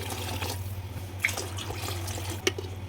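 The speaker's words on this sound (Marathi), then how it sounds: "मिसळचा कट बनवण्यासाठी इथे आपण तीन ग्लास पाणी ॲड करून घेऊया" Water is poured into a pot of misal curry to make the spicy broth, a faint continuous trickle over a low steady hum with a couple of small splashes.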